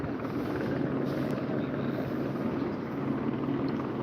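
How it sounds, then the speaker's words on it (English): A news helicopter hovers above a student protest at Cal State LA, its steady rotor drone holding at a constant level throughout with no speech over it. "But news choppers are still up above."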